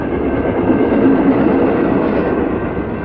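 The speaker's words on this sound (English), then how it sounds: "the motor sitting right under the doghouse is loud" Steady, loud, low rumbling drone inside a moving motorhome, with the engine sitting under the doghouse cover beside the cab. The roar stays constant and close with no talk over it.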